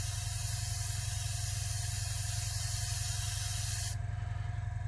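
A Badger Extreme Patriot 105 airbrush sprays paint in a fine mist, a steady close-up hiss that holds for several seconds before cutting off near the end.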